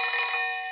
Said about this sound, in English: The clock ringing.